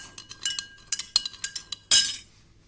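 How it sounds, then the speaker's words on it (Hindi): Metal spoon stirring salt and sugar solutions in drinking glasses, a quick run of bright clinks and taps against the glass at close range, ending in a louder scraping clatter, with no talking. "use a spoon to mix the contents of each glass"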